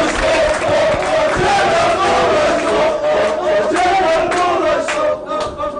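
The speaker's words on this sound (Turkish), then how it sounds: "Bir alkış daha Cenap kardeşime." A large crowd roars and claps continuously, loud and dense, with shouts mixed into the steady wall of noise, at the opening of a Fenerbahçe supporters' association in Beylikdüzü.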